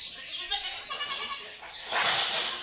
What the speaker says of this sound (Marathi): ललताजीनं आणलं बकरा बाहेर सडकवर